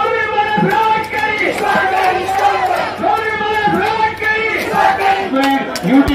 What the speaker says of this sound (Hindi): तालियों से उनका इस्तकबाल किया जाए।